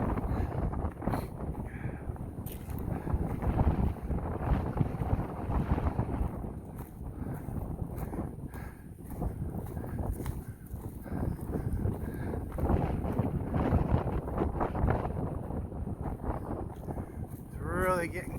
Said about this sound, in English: It's really getting cold and windy.